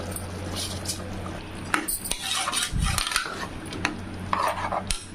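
Soaked rice being tipped into a pan of tomato mixture for tomato rice, with metal spoon clinks, scraping against the pan and a soft wet pouring thud, close and moderately loud without talk.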